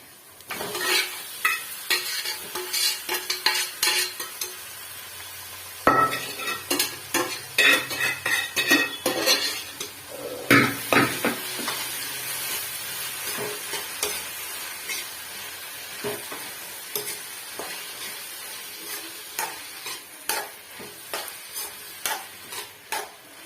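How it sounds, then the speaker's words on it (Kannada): Onions fry in a pan as drumstick leaves are tipped in, a steady close sizzle broken by repeated scraping stirs and metal clinks of a spoon against the pan; no one speaks. "ಈರುಳ್ಳಿ ಫ್ರೈ ಆಗಿದೆ, ಸೊಪ್ಪು ಹಾಕೋತಾ ಇದ್ದೀನಿ"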